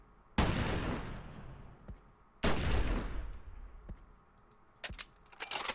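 Two heavy sniper rifle shots ring out in the video game Battle Steed Gunma, each a loud broadband crack with a long decaying tail, followed by quieter mechanical clicks and clacks of reloading.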